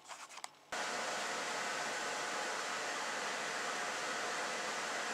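An air conditioner runs steadily on a hot day, a dense, even broadband hiss that kicks in loud after a brief moment of faint clatter and continues unbroken, close and constant.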